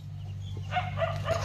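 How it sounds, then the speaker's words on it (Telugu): A dog barks faintly somewhere in the distance, a few short yelps over a steady low hum on an early-morning hillside outdoors. "కుక్క అరుస్తుంది."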